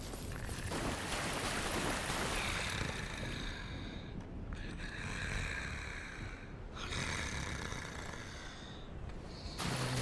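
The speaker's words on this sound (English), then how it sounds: "An ominous sound of someone sleeping and snoring." A sleeping figure snores in the dark fantasy game Dark Souls: slow, heavy, rumbling breaths swell and fade in long cycles over a dense, droning ambient bed, close and steady with no talk.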